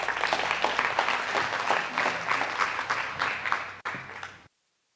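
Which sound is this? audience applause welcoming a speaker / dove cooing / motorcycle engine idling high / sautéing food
audience applause welcoming a speaker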